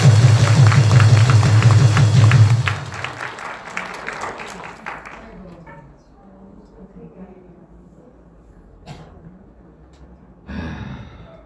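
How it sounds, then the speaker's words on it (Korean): Audience applause at a Korean patriotic YouTube rally, a loud burst of clapping that fades after about three seconds into quieter crowd murmur, with a brief second swell of clapping near the end. "유튜브 여러분들에게 박수를 좀 보냅니다"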